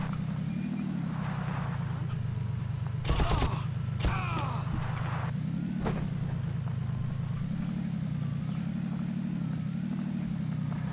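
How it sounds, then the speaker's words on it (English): In the 2004 video game Far Cry, a car drives with a steady engine drone whose pitch rises and falls gently. Short bursts of what sound like gunfire cut in around the middle. "we're just gonna get in the car and drive"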